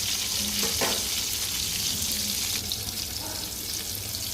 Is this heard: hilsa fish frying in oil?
yes